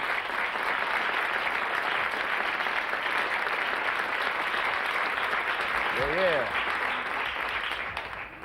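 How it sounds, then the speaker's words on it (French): A studio audience applauds steadily and loudly throughout, a dense sustained clapping with a brief whistle near the end and no pause. "Quelques applaudissements de la foule en délire."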